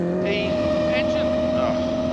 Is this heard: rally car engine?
yes